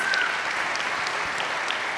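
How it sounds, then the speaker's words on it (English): An audience at a live dance show applauds a judge, a steady, dense wash of clapping that holds evenly for about two seconds with no voices over it. "Round of applause for Bonnie"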